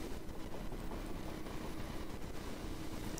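A train rumbles steadily throughout, a dense low mechanical roar with faint rhythmic clatter from the rails, playing as an illustration during a church teaching.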